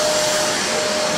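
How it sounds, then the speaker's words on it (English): A vacuum cleaner runs close by with a loud, steady whine and a fixed high tone over the whole short stretch, without any voices. "even with the vacuum cleaner on"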